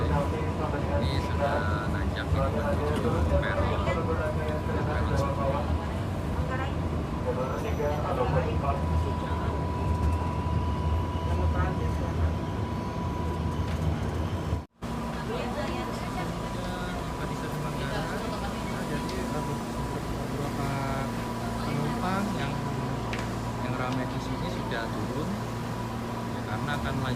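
Inside a KRL Commuter Line electric train climbing toward Manggarai station's platform, a steady, dense rumble of wheels and motors runs throughout while a person talks over it.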